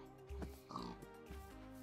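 A pig in Minecraft gives a few short oinks and snorts close by over a steady low background hum.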